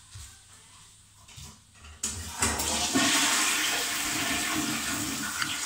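A toilet flushing at home, starting with a sudden loud rush of water that holds steady and fills the rest of the clip, preceded by a short stretch of quiet room sound.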